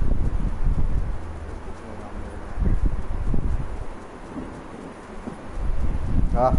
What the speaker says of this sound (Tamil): ஆ மழை இடி மழை சத்தம்லாம் பயங்கரமாக கேட்குது.